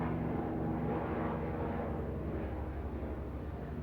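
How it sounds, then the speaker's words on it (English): Loud, dense low-frequency rotor roar that fills the clip continuously, like a helicopter passing close overhead, with no talking. "Hold on, loud helicopter."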